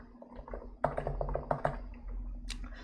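Code being typed on a computer keyboard, a steady run of soft key clicks at a moderate pace over a low room hum.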